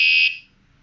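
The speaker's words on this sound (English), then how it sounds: "So this bell, this button, if I push it, it sounds like this." A single short, shrill electronic beep rings out loudly and cuts off quickly, leaving quiet background.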